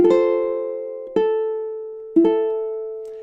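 Ukulele plucked slowly through measure 3 of a song, three separate struck chords each ringing out and fading before the next, clean and close with no voice.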